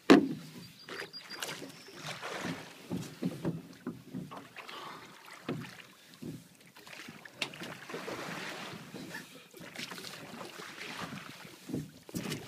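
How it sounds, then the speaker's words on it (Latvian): A rowing boat moving across water with repeated oar strokes dipping and splashing at an irregular rhythm, set against steady wind and water noise, all fairly close to the microphone. "Iemērciet airi ūdenī un viņš pats ieliks duļļu vietā"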